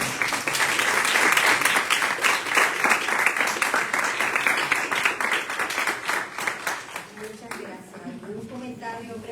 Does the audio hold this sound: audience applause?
yes